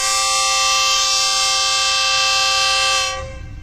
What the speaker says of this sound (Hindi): काशन की वजह से इसको हारन देना पड़ा